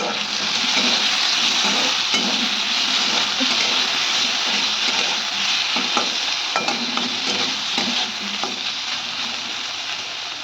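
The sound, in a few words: ground spice paste added to the pan, sizzling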